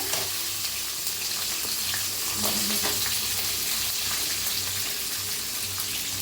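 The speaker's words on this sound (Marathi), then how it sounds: "आता ह्याला भाजायचा, थोडंसं टाकूया हिंग, टाकूया कांदा छान भाजलेला आहे, शेंगदाणा, डाळ" Asafoetida, onion, peanuts and dal sizzle and fry in a pan, giving a steady, close crackle with a few brief stirring scrapes and no talking.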